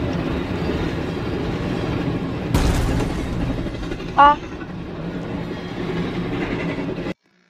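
Roblox train rumbling along with a continuous clattering roar, a sudden loud crash midway, and a voice shouting over it before the sound cuts off abruptly.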